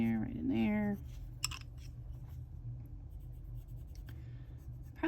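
Colored pencil shades on paper with soft, scratchy strokes, faint and close, following a brief moment of a voice at the start.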